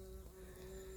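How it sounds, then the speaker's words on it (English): Bees buzzing among Sarracenia pitcher plants in a Shropshire collection, a steady close insect drone with a faint tonal hum running through it, no speech. "Noisy bees."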